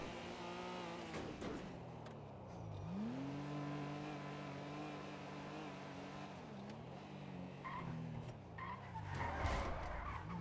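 Car drifting in a GTA roleplay game, engine droning and sweeping in pitch through sustained slides with bursts of tire skid, fairly loud and steady, a voice faintly under it.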